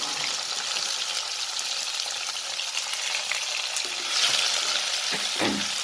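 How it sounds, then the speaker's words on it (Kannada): Onions frying in oil with curry leaves in a pan, a steady close sizzle with a light scrape of stirring near the end. "ಸ್ವಲ್ಪ ಫ್ರೈ ಮಾಡ್ಕೊಳ್ಳೋಣ"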